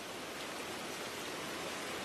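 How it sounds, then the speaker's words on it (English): Steady soft rain hisses evenly as a broadband wash, faint and unchanging, with no voices over it. "The rain's letting up."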